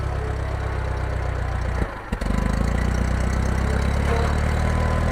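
An International Harvester IH 504 tractor engine runs close by in a steady low chug, briefly dipping near the two-second mark before settling back into an even idle.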